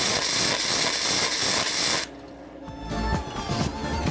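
A portable wire-feed welding machine runs on an extension cord with an unsteady current, giving a loud buzzing crackle of welding that cuts off abruptly, followed by quieter mechanical whirring and clicks.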